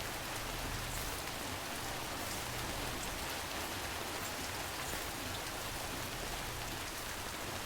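Timefall rain from the video game Death Stranding falls steadily around a shelter, an even hiss of rain on surfaces with a faint low hum beneath, no voices.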